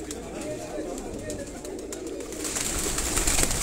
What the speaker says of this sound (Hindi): उस्ताद सलाउद्दीन शहरिया साहब होरां दे घर दे कबूतर ने जी